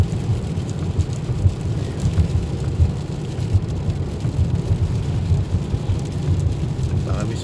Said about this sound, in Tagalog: And frozen rain